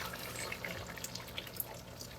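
Red lentil soup boiling in a pan, with small bubbles popping and plinking in an irregular patter over a soft, steady simmering hiss, close and fairly faint, with no talking.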